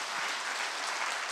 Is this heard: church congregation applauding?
yes